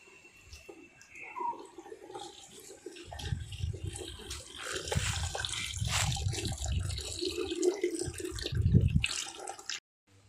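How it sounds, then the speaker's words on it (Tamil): Milk is poured into mashed purple yam for a Jaffna-style dessert, a soft continuous liquid splash and trickle building over several seconds before stopping abruptly. "கிழங்கு மசிச்சாச்சு இப்போ பாலை விடுறான்"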